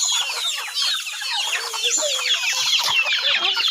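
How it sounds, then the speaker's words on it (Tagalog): A flock of chickens in a rural Bisaya province yard clucks and squawks continuously, many overlapping birds close by, with no talking. "Pakan akong manok ato, Ben."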